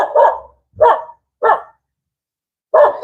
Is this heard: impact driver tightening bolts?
no